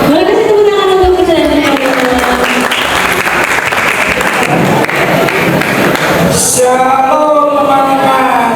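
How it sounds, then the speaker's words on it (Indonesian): An audience at a school film festival ceremony claps loudly and steadily for several seconds while a voice carries over the applause. "Boleh kasih tepuk tangan untuk kita."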